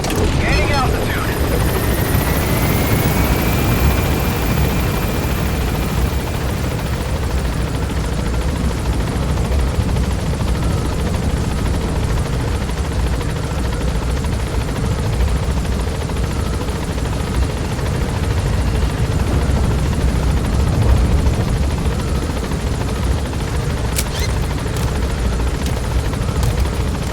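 A helicopter in the video game Metal Gear Solid V thrums steadily and loudly throughout with constant rotor noise, joined briefly by a rising whine near the start and some sharp clicks later on.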